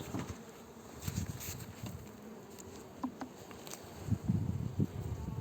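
Honey bees at a two-frame hive buzz softly in a low, continuous hum, with faint rustles and light taps from handling the hive close by.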